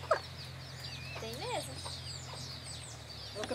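Chickens on a Brazilian smallholding cluck and call near and far, with a rooster-like squawk in the middle, over a steady low hum and occasional distant voices.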